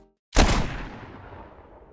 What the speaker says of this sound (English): Let's take a look at the gunshot I made with these kind of story elements in mind.